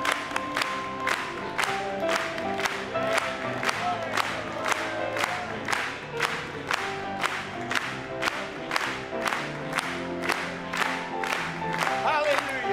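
A church congregation claps in steady rhythm, roughly twice a second, all the way through a French-language worship song, with singing and music beneath the sharp, even beats.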